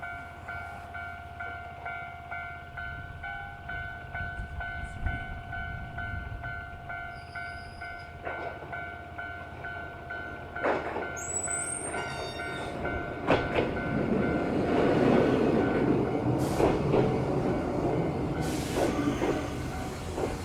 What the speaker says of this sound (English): The 1003 train.